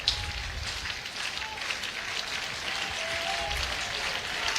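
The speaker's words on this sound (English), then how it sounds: "Crowd getting behind." A college baseball crowd in the top of the seventh at a Big Ten tournament game, Michigan State versus Nebraska, rumbling and cheering as a distant, steady wash of noise with no clear voices.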